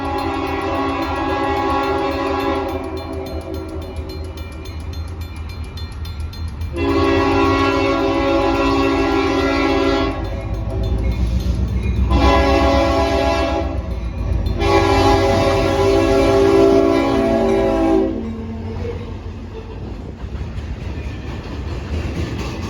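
St Lawrence & Atlantic freight trains pass at close range, with several long, loud horn blasts over a steady rumble of rolling wheels and railcars.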